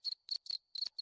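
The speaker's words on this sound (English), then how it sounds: "There's a cricket." A cricket-chirp sound effect played from a Discord soundboard: five short, bright chirp bursts in a quick, evenly spaced rhythm, close and clear, with no voices.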